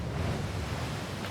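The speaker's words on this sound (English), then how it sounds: "Waves crashing." Ocean waves wash and crash against a shore, heard as a steady broadband surf roar with some wind noise, moderately loud and continuous without any voices.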